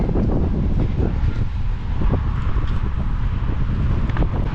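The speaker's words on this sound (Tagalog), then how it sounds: "lakas ng hangin" Strong wind buffets the microphone in a constant low roar in drizzly New Zealand weather, gusting unevenly throughout with no voices.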